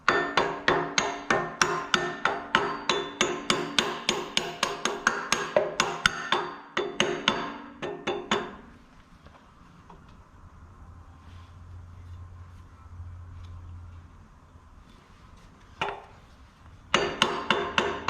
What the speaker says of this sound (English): you can hear the gear lash in there